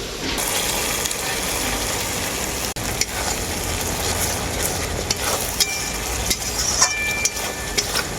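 Spiced masala sizzles steadily in a pan as cashew paste is stirred in, with a continuous loud frying hiss, scraping spoon strokes and occasional clicks.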